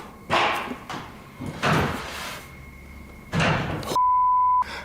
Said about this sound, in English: I just had a door closed on me.